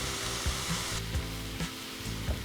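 Butter and thyme sizzle steadily in a hot pan, a close, even hiss with soft stirring scrapes and no talk.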